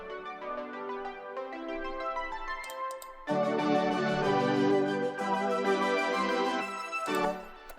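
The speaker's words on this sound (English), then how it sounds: "This was the pensive ARP preset in the Juno." Pensive ARP preset on a Juno synth, a bright pulsing arpeggio of rapid repeated notes that starts quieter then thickens and swells, playing alone at a low level.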